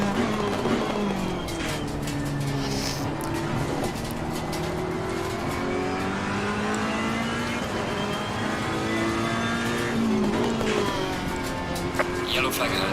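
V12 race car engine in a GT3 sim racing league race at Zandvoort, a loud sustained engine howl with rising and shifting pitch through gear changes, steady throughout, with a driver talking over it.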